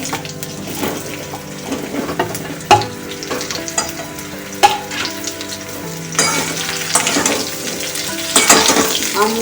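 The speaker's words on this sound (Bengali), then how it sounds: "আমগুলো দিয়ে ভালো করে কষবো" Mango pieces fried in hot oil for pickle, a loud close sizzle broken by sharp spatula knocks and scraping stirs against the pan, with a brief running-water sound mixed in.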